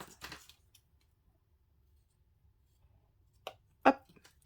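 Scissors snip a small brown suede ribbon, giving a few quiet, isolated cuts close by in a near-silent room, with a sharper snip near the end.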